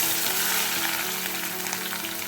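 Crushed onions sizzle and fry in hot coconut oil, a steady close crackling hiss that fills the whole short stretch with no talk.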